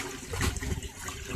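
Grain left to soak is rinsed by hand in water, a short burst of sloshing and splashing with trickling, close and fairly quiet.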